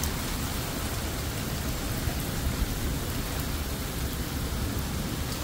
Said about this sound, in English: Hailstorm in our area, guys.